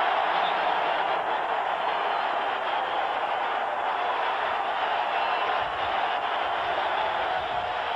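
A stadium crowd at a 1991 Miami Dolphins vs New York Jets football game roars in a steady, dense wash of noise throughout, distant and unbroken.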